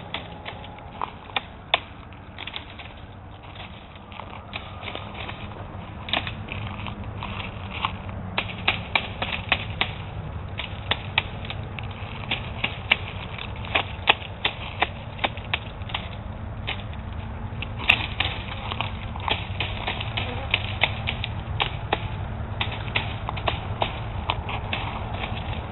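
Harvested nuts or fruit pattering down from a tapped tree during harvest, a dense rain of small hard clicks and knocks scattered steadily over a low rumble, with sharper nearby hits now and then.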